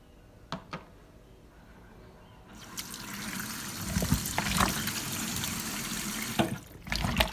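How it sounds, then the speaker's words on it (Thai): Tap water runs over raw chicken feet being scrubbed with salt in a home kitchen, a quiet start giving way to a steady hiss of running water with a few splashes and clinks, no voices. "เดี๋ยวจะล้างก่อนนะครับทำความสะอาดก่อนนะครับ"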